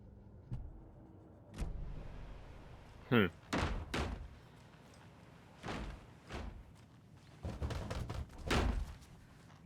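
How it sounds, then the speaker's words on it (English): Heavy thuds of doors being banged on in Alan Wake 2: a series of loud, irregular knocks and slams, each standing apart, with a voice speaking between them. "Is there a reason you're banging on the doors?"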